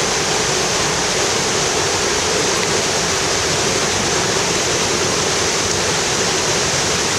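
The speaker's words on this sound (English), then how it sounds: "Hear that? That's the waterfall. Very mighty." Mighty waterfall at La Fortuna crashing in a loud, steady broadband roar that stays constant throughout, with no voices over it.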